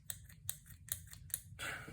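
Four crisp snips of sharp scissors cutting yarn in quick, even succession, close up, followed by a brief rustle.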